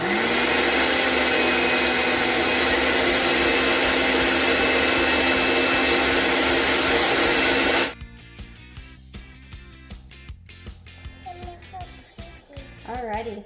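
A blender whirs loudly and steadily for about eight seconds, blending a drink of overripe, mushy strawberries, then stops abruptly. Quieter clatter and handling noises follow, with some talking.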